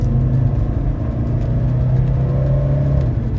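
A 1984 Mercedes 300SD diesel engine at full throttle, accelerating with a steady, loud low rumble and whir heard from inside the car, continuous and unbroken with no talking.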